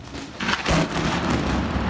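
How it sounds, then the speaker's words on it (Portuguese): A lightning strike brings a sudden loud thunderclap that crashes and rumbles on, heavy and close, amid steady rain noise in São José dos Campos, Brazil. "Olha só essa imagem da Tatiana, bem no momento em que um raio cai no Jardim das Indústrias"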